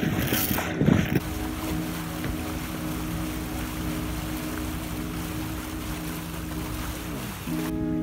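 A ferry boat departs on the Brahmaputra River with a steady low engine drone and rumble, joined by water and wind noise, fairly loud and continuous, with a brief louder burst near the start.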